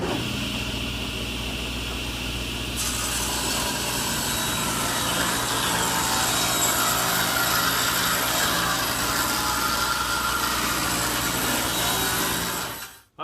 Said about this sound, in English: The next step is to rip the wooden infill piece to 1/2 inch